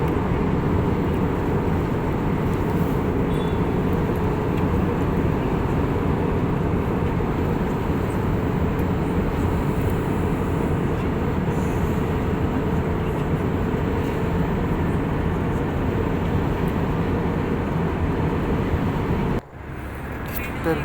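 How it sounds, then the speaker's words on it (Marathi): Steady broadband roar of an airliner cabin at cruise altitude above the clouds, about fifteen minutes after takeoff, continuous and even throughout with a brief dip near the end. "तर विमान उडून आता 10-15 मिनिट झालेले आहे"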